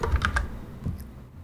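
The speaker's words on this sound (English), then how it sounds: "if I start typing, there is the validation error and then it disappears" A few quick keystrokes on a computer keyboard while testing a form input, a short close burst of clicks that trails into quiet room tone.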